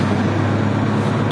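Volvo FH 540 truck with a D13 engine and iShift gearbox, heard from inside the cab while driving: a steady, loud low engine drone with road rumble throughout, no talking.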